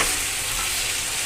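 Chicken stirred and fried in a pan gives a steady, loud, dense sizzle with scraping stir noise running unbroken throughout, no voices.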